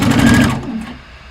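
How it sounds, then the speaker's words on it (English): A sewing machine runs in a fast, steady burst while stitching a seam on a hat, then slows and stops, leaving a quiet tail. "The edge, I'm lowering the presser foot. I'm taking a nice seam allowance."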